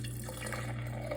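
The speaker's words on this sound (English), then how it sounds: "so I'm going to pour the milk mixture" Milk mixture for homemade yogurt pours steadily into glass jars, a continuous close liquid stream with a low hum beneath, no talking.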